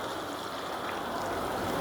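Hot water pours steadily into a pot of pigeon meat curry, a continuous close gushing splash with no pauses and no voices.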